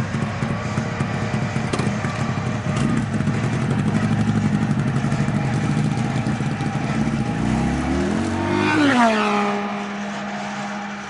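A motorcycle engine revs loudly in a comic action scene, holding a steady rumble before rising in pitch and then settling back to a lower drone.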